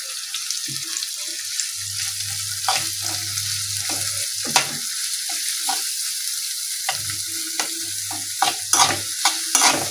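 Potatoes, chili and onion frying in a pan while being stirred, a steady sizzle broken by repeated scraping strokes of the spoon, close and alone with no talk.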